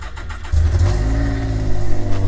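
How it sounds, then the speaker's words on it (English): A car engine cranks and fires up using a duplicated spare key, then settles into a steady, loud idle close by with a slight rev, no talking. "then start my car."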